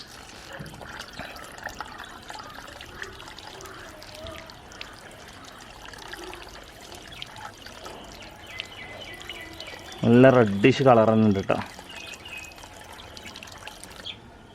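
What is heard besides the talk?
water poured while washing moina live feed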